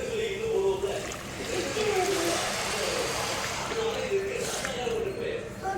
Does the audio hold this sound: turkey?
no